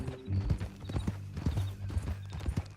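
Horse hooves clip-clopping at a steady walking rhythm in the Red Dead Redemption 2 video game, close and clear, with a brief whinny.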